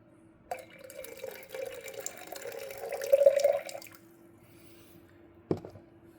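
Rinse water from a raw Jinggu-Bulang pu-erh tea, 2010 pressing, poured out from the brewing vessel, a steady trickling splash lasting a few seconds, close and moderately loud, ending with a brief clink.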